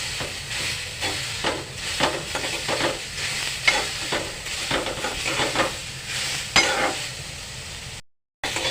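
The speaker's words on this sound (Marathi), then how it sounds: "छानपैकी भाजा हा कांदा" Onion frying in oil in a pan, browning to a reddish colour, with a steady close sizzle and hiss broken by frequent scraping stirs, running alone and fairly loud until it cuts out briefly near the end.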